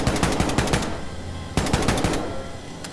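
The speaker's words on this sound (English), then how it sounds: "Getting shot at." Video game gunfire in Wolfenstein II, with two loud, close bursts of rapid automatic shots separated by a brief pause, each burst a fast rattling string of cracks.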